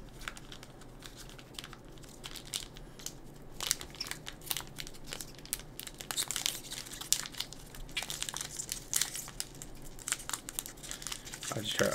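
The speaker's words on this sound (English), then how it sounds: "it takes forever to open these cards up" Pokemon Crown Zenith card pack wrappers crinkle and tear close by in irregular bursts of crumpling foil, growing busier partway through, under quiet speech.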